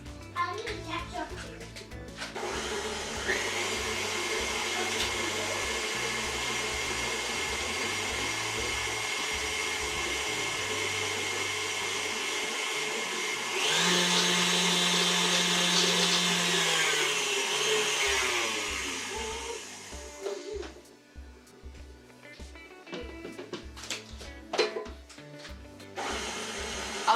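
Cupcake batter or frosting being mixed with an electric mixer, a long steady motor whir with a brief higher-pitched stretch, then stopping to scattered clinks and someone talking nearby.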